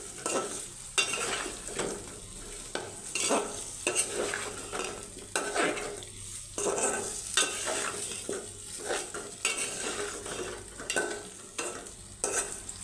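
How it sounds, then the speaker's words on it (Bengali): Repeated scraping of a spatula stir-frying chicken with potatoes and carrots in a pan over a steady sizzle, with rhythmic metallic scrapes throughout and no voices. "এটাকে সুন্দরভাবে মুরগির মাংসের সাথে কষিয়ে নিতে হবে"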